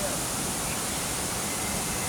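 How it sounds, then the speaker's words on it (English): Bubbling water running through small rills in a natural outdoor spot, a continuous, full hiss of flowing water close by, even and unbroken throughout. "The water is coming from here. This place is so bubbling."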